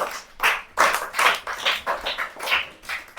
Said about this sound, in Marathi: छान टाळ्या वाजवा